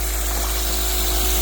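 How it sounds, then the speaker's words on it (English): A water pump pushes flow through the spray bar of a home-built shaker deck, a steady rushing wash with a low constant hum, running unbroken and close throughout. "Water's running and it has a speed controller"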